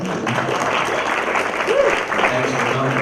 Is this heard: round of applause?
yes